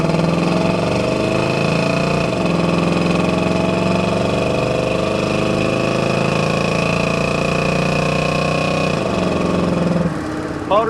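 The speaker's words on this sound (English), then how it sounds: "Temperature's warmed up good. We're about 180 degrees, so we'll go ahead and test out the 350 here." A 1966 Chevrolet C10 pickup with a 350 V8 on aluminum heads, warmed up to temperature, runs at a steady loud idle, its engine note dipping and swelling slightly in a few places before the sound drops near the end.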